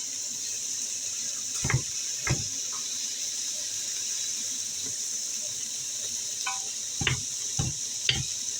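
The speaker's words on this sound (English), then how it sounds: "As you can see, it's sizzling." Pumpkin soup with large chunks sizzles steadily in a pot, a constant frying hiss punctuated by several sharp clinks and scrapes of stirring.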